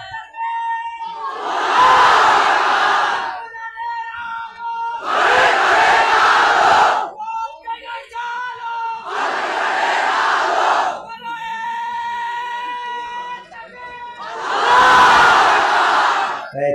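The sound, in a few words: crowd shouting takbir chant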